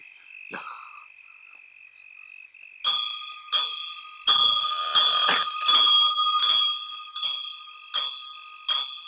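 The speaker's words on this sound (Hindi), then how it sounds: "तुम दोनों घंटी बजाते रहना।" A bell struck repeatedly in a steady rhythm, each ring bright and lingering, over a continuous high-pitched insect-like drone.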